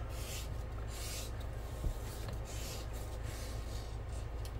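Steady scraping and rubbing of a steel beveler along the edges of a leather acorn and oak leaf belt, with repeated strokes, close and moderately loud over a low background hum.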